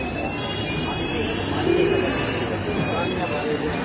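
Pigeons cooing at a pigeon seller's stall, including Giribaz pigeons, with a soft steady coo rising in the middle of a busy, noisy background and close handling sounds.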